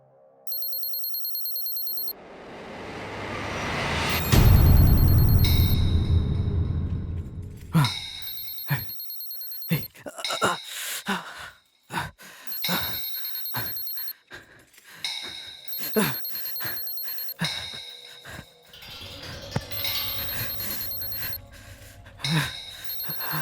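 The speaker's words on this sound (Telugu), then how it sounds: "ఫోన్ రింగ్ అవుతుంది." A telephone rings in a Telugu film scene, with repeated ringing tones mixed with clattering and other busy sounds across the passage. Brief vocal sounds occur.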